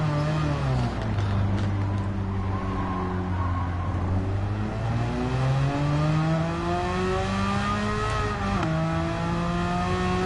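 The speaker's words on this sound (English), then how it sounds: "I love the sound of this car." A car engine in the racing video game Gran Turismo 7 revs and shifts through gears, pitch climbing and dropping in smooth sweeps with a sharp dip near the end, loud and continuous with no talking.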